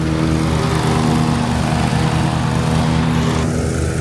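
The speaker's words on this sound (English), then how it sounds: "Now he's mowing mine." Riding lawn mower mowing a yard on a farm, a loud steady engine drone with a throbbing low pulse, continuous and close throughout.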